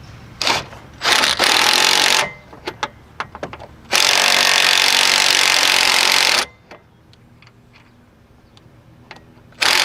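Power tool, likely an impact or ratchet, running a bolt into a Chevy Trailblazer rear upper control arm: several short bursts, then two longer loud runs, with clicks and handling noise between and no talk.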